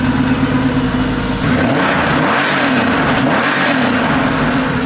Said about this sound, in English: It still sounds like an old air-cooled Porsche, which is exactly one. It's got the rasp, it's got the snap to it.